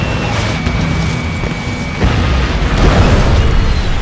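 Bombers exploding in the Ace Combat video game, with an F-14 Tomcat in the scene, heard as dense, loud booming rumbles that swell midway, with no voices.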